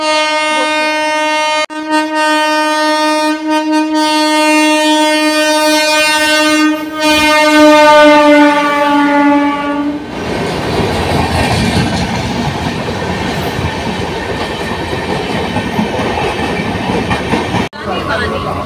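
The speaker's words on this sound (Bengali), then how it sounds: "তো 2 নম্বরের ট্রেনটা আসছে, আওয়াজ শুনতে পাচ্ছ" A train arriving at a station platform blasts a long, loud horn for about ten seconds, then its rumbling, clattering wheels roll in close by.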